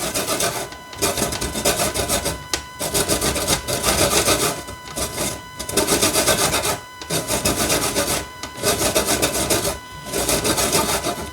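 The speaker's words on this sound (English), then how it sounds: "I'm just grating the skin off of the lemon" A lemon is rubbed over a grater to zest its skin in quick, loud, rasping strokes, several bursts of steady scraping separated by short pauses, with no talking.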